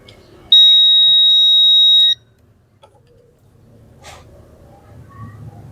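A loud, steady continuity beep from a multimeter tests a resistor on a digital TV set-top box board. It is a single sustained tone of about one and a half seconds, followed by quiet handling noise and faint clicks.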